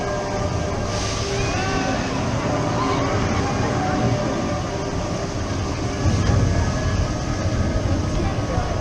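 The Expedition Everest ride train at Disney's Animal Kingdom rumbles past with steady, loud rail noise and a brief rise in intensity near the end; voices chatter faintly underneath.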